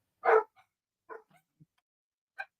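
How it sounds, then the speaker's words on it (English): Dogs give several short, sharp barks spaced over a couple of seconds, one loud near bark followed by quieter yips, against an otherwise silent background. "I don't know why the dogs are having a fit."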